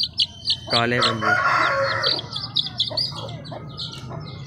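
Aseel chicken chicks in a coop cheep in quick, high repeated chirps while a hen gives a longer clucking call, all close by, with someone speaking over them.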